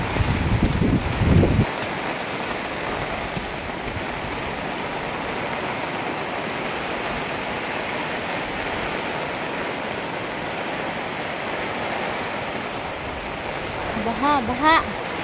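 Floodwater rushing steadily through a mountain garden during Typhoon Paolo in the Cordillera, a loud unbroken roar of flowing water throughout, with a brief louder splash at the start.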